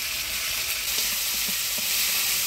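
A ground spice paste of coriander, cumin, ginger and chilli fries in hot oil in a Bengali village kitchen, a loud, continuous close sizzle broken by faint stirring scrapes, with no talking.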